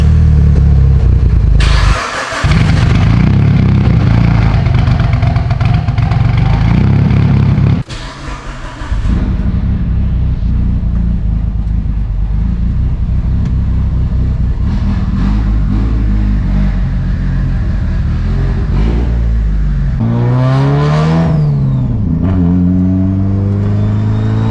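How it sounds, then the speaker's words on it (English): Straight-piped 700whp Mitsubishi Evo engine cranking to life with a loud bark, settling into a raw, harsh idle, then several rising and falling revs near the end, all close and unmuffled. "Let me do a little startup"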